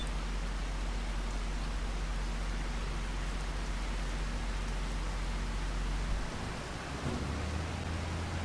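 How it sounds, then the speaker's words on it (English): Steady broadband rain hiss in Farming Simulator 25, with a low rumble underneath, continuous and fairly loud throughout, the low hum shifting near the end. "Oh, it's starting to rain."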